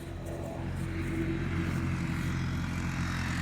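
A UTV engine drones along a rural off-road vehicle path beside a road, a continuous low rumble that swells slightly louder as it passes, with no voices over it.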